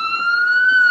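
An emergency siren wails steadily and loudly on a New York City street in the Bronx, a sustained high tone held throughout with no speech over it.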